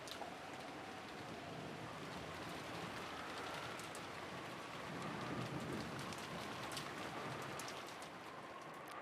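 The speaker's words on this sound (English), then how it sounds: "God damn, it's raining so hard." Heavy rain pours steadily in the Umineko visual novel, a dense, constant wash of drops drumming on surfaces, with a slight swell in the middle and no voices over it.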